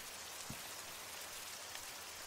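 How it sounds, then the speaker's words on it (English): Steady rain falls without a break, with a faint drip or tap standing out briefly near the start; no voices are heard. "You want more rain, huh?"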